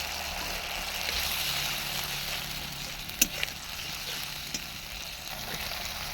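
Spice paste with salt, turmeric and a splash of water frying in a pan over an outdoor wood fire, a steady moderate sizzle with a couple of sharp stirring clicks.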